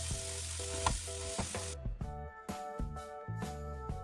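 Tandoori chicken frying in a pan, with a dense sizzle that cuts off abruptly and then gives way to a series of close, sharp clatters and knocks from the pan as the pieces are turned.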